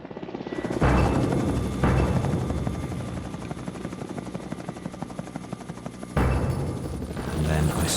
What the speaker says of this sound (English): a United Nations helicopter has been searching the jungle for them